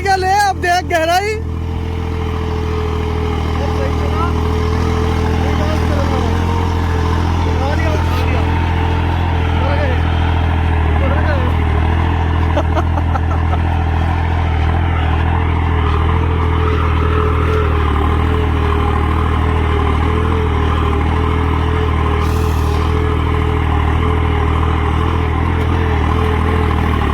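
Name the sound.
tractor engine pulling a subsoiler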